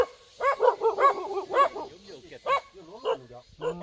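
A dog in a remote mountain village barks repeatedly in a quick series of close, sharp barks and yips, with a few more scattered barks after a brief pause.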